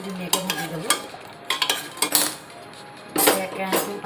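A metal ladle stirs and fries a simple dal tempering in a pan, producing intermittent clinks and scrapes in short bursts over a light background sizzle, with no voices.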